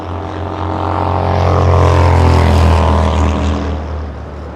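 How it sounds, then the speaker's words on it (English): A United Boeing 787 Dreamliner on arrival from London Heathrow passes close by, its engine roar swelling to a loud peak at mid-pass and then fading gently. "Dreamliner United flying in from London Heathrow"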